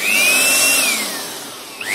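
Jakmister 700W electric air blower running at full speed, a loud, steady high-pitched whine and rushing airflow close by, with a faint pitch sweep and a small click near the end.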